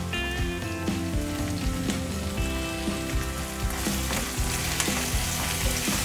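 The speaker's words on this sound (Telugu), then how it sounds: "పచ్చి వాసన పోయే వరకు ఫ్రై చేసుకోవాలి అల్లం పేస్ట్." Ginger paste and turmeric fry in a pan for a mutton curry, giving a dense, loud, steady sizzle with crackling spatter and stirring scrapes, close up and without voices.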